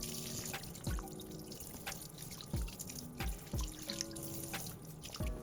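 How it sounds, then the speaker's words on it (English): Tap water runs and drips into a sink while raw chicken is rinsed to wash off salt, with several soft splashing drops at irregular intervals over a steady close trickle. "we want to rinse the salt off thoroughly with running filtered water"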